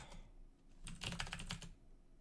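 Computer keyboard keys clatter during play of the roguelike Dungeon Crawl Stone Soup, a quick burst of faint, close clicks after light tapping, with no talk.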